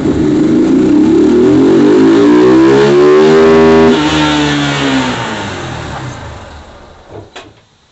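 A carbureted 150cc motorcycle revs hard in third gear, its close, loud engine note climbing steadily in pitch for several seconds, then falling away as the throttle closes and the sound fades to near silence.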